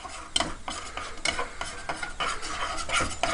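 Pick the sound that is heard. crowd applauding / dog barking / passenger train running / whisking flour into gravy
whisking flour into gravy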